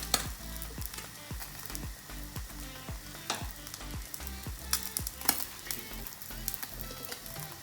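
A sandwich toasts in a hot pan, sizzling and crackling steadily up close, with recurring soft scrapes and taps over the continuous frying hiss and no talking.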